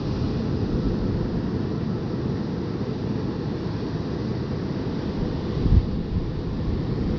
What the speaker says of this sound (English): Nice big waves out there today.